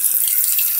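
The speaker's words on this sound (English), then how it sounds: "And then we just put water on our face." Water running from a tap into a sink while a face is washed: a brief, steady, close hiss of flowing water with no voices.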